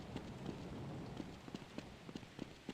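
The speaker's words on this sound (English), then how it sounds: "Sounds of the city and the rain and the thunder." Rain ambience in The Specialists, a Half-Life mod map: a faint, steady patter with scattered drop-like taps. No thunder stands out during the brief stretch.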